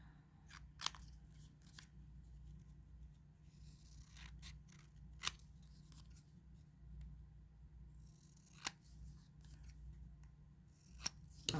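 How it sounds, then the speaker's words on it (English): Scissors snip through a candy wrapper keychain in a quiet room, a handful of sharp isolated clicks spaced unevenly with faint rustling between them. "Let me just trim this up a bit"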